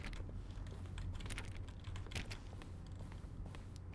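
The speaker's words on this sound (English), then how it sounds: "Except for keyboard stroke and a synthesized tone." Keyboard key strokes from the office computer desk in The Stanley Parable, a steady run of quick, close clicking taps repeating throughout over a faint low hum.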